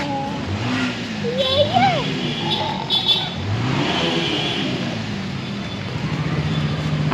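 A car engine rumbles past on the road, rising then fading, with traffic noise and a few voices talking nearby.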